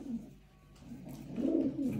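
A racing homing pigeon cooing softly, a low rolling coo rising toward the end, close and quiet with no voices.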